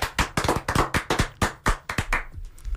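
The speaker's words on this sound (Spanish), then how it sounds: "Fuerte aplauso." Rhythmic clapping from a studio audience greets an arriving guest on a talk show, a steady run of sharp, evenly spaced claps close by that thins out near the end.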